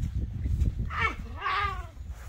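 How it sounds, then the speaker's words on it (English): A cat lets out two drawn-out, wavering meows close by, the second longer and louder, over a low rumbling background. "last kitty cat"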